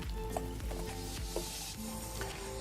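Boiling hot water poured over watercress to wilt it, giving a steady close hiss and splash with faint clinks of kitchen equipment.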